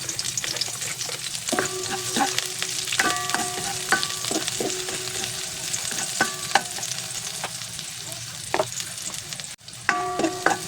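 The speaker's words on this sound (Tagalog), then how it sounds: "Lagay ko na rin yung sibuyas." Garlic and onion sauté in a hot pan for a vegetable dish cooked in coconut milk, with a steady sizzle broken by repeated sharp clinks of a utensil scraping and stirring against the metal.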